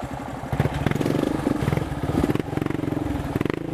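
A dirt bike motorcycle engine on a forest trail revs in quick throttle bursts with a throbbing, pulsing rumble, loud and near, with no talk over it.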